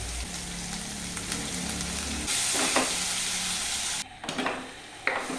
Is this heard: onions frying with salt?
yes